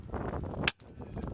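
One quick sharp pop from a 5.5 mm air rifle firing, close and short, set between stretches of low background rumble that pause briefly right after the shot.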